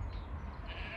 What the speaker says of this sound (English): You can hear the sheep next door.